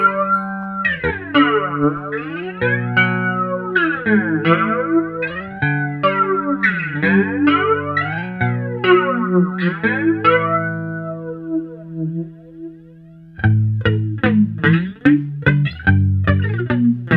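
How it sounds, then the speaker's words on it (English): Bass guitar played through a Mark Bass CMB 150 Black Line amp with a flanger effect, a loud sweeping, swirling tone over busy plucked notes, a brief quieter pause near the end, then renewed strong attacks. "Let's switch over to a flanger sort of effect"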